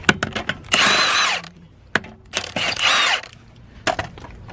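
A Milwaukee power tool fires in short bursts while a wheel goes onto a BMW E38 or E39: two longer rattling runs and several sharp clicks and taps close by, with no voices.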